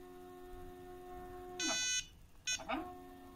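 An iOptron CEM60 telescope mount slews at handset speed 5, giving a steady whirring motor whine with two short higher-pitched bursts as the right ascension and declination axes move in turn, close and fairly quiet.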